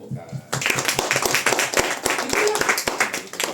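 An audience claps together, a dense burst of applause that starts abruptly and continues steadily for a few seconds, fairly close.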